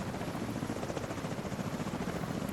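A video game helicopter flies with a steady, close rotor thrum, pulsing evenly and alone with no talk.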